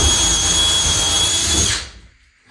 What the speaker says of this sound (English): then I can come in, drill a pilot hole.